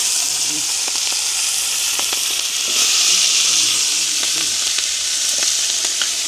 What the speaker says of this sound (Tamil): எண்ணெய் வந்து சூடாகிடுது நாங்கள் வட்டி வச்சுருக்கிற வெங்காயத்தையும் அதோட பச்சை மிளகா கணக்கையில் ரெண்டு மிளகாய் வட்டி வச்சுருக்கிறோம் அதையும் போட்டுக்கொள்ளலாம்